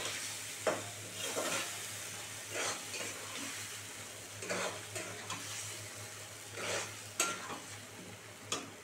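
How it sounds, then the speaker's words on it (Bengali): Dry spice masala is fried and stirred in a pan for an egg and pointed gourd curry, with a steady low sizzle broken by repeated scraping strokes of a spoon, fairly quiet and close, with no voices. "এবার মশলাটা ভালো করে দিয়ে কষাবো"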